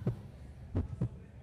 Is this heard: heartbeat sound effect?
yes